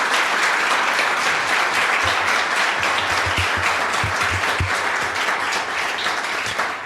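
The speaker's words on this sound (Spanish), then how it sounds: "¿Cómo es el aplauso que se merece Marco Vinicio?" A studio audience applauds a guest named Marco Vinicio, steady dense clapping from many hands throughout, fairly loud and close, without talk over it.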